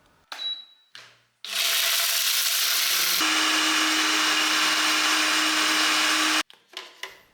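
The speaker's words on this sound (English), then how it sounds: "Next, blend until you get a fine powder." A blender grinds whole Jamaican mixed spices into fine powder, roaring loud and steady for about five seconds after a couple of short pulses, then cutting off abruptly.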